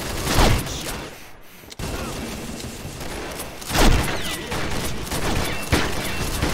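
Gunfire in a Biohazard shooter game, with a few loud close bursts of shots and booms standing out against a noisy, busy game soundscape.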